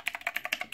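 Rapid clicking from the navigation keys of a Divoom Ditoo retro speaker, built to mimic a small computer keyboard, with about eight crisp, evenly spaced key clicks in under a second, close and alone.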